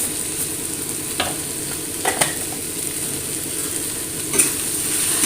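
Spices (garam masala and cumin powder) are stirred into a frying pan for a North Indian dish: a steady sizzle with a few sharp spoon scrapes and clinks against the pan.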